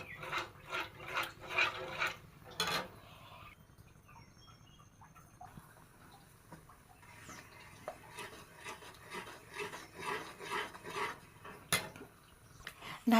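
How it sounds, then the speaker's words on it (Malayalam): Pumpkin mixture being stirred in a pan over a gas flame, with bursts of spoon scraping against the pan at the start and again near the end, and a quieter stretch in between. "നന്നായിട്ടൊന്ന് ഇളക്കി കൊടുക്കണം."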